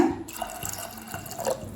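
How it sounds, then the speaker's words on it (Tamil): Water pours and trickles steadily into a cooking pot of black-eyed pea curry, with faint splashing and clinking throughout. "இப்போ இன்னும் கொஞ்சம் தண்ணி சேர்த்துக்கலாங்க."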